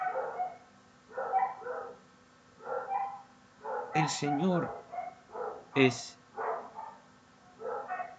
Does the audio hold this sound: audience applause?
no